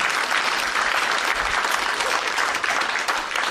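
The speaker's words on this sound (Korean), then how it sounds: "다시 한번 큰 박수 보내주시기" A hall audience gives warm, sustained applause honoring the elderly sijo poet and teacher Baeksu, the clapping dense and even throughout with no voices on top.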